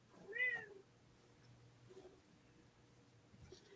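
A pet cat named Michelle Swickums gives one clear, fairly close meow near the start, then a couple of faint, brief mews follow in an otherwise quiet room.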